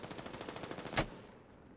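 Rapid automatic gunfire in a video game, a steady stream of fast shots with one louder burst partway through, continuing at moderate level without talk.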